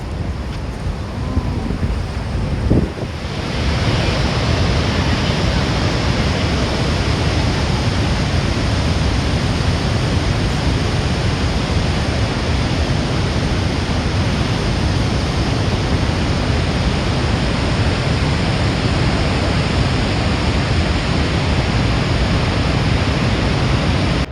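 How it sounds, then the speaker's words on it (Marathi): A loud, steady roar of Niagara Falls in winter, Canada, fills everything, broadband and unbroken, after a brief quieter moment at the start. "ह्या धबधब्यातून पडणाऱ्या पाण्याचा आवाज एवढा प्रचंड मोठा होता"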